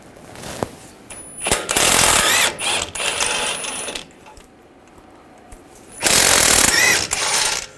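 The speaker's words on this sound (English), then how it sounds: "Using a 21mm socket, take these two caliper bracket bolts out." A ratchet fitted with a 21mm socket works loose the two caliper bracket bolts on a 2011-2018 Ram 1500 front brake. Close, loud bursts of rapid clicking and metallic grinding come in two long spells separated by short pauses.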